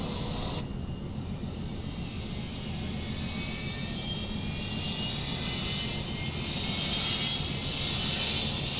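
A Fokker F50 turboprop engine spooling up in the P3Dv5 flight simulator, giving a loud, continuous whir with a rising high-pitched whine layered over a constant low roar and no talking.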